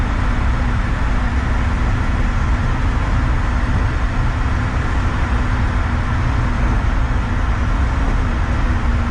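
Inside an old Chevrolet Nova found in the desert, with worn-out door seals, a loud, steady road and engine roar fills the cabin while driving, without pause or voices.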